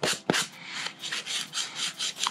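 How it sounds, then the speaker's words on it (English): A sanding block rubs back and forth over a drilled hole in a wooden base, about eight close, rhythmic rasping strokes with no talking. "So I'm going to take the sanding block and make this hole"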